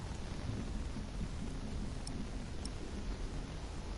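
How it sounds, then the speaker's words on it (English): Thunderstorm rain in the video game The Pillars of the Earth: a steady hiss of heavy rainfall over a low rumbling bed, with a couple of brief crackling drops standing out, constant and fairly close. "The storm makes it worse."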